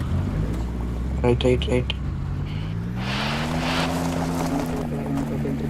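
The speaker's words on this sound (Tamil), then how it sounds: "வண்டி ஆன் பண்ணுங்க முதல்ல." A car in a Roblox game starts and drives off, its engine hum rising steadily in pitch as it accelerates, while players talk excitedly over it.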